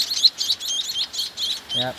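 A baby sunbird (tamsi) gives a rapid series of thin, high chirps, close and fairly loud, repeating in quick bursts before a short buzzy call at the end.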